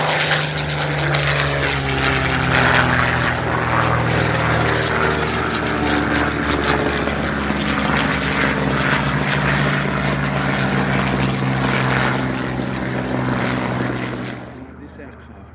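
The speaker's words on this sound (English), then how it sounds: "This aircraft is flown by Lufthansa today, the real Lufthansa, the airline, who has an historical division" A vintage Junkers Ju 52 propeller aircraft operated by Lufthansa flies at the Duxford airshow. Its multiple engines drone loud and steady, then fade as it moves away near the end. A commentator talks over it.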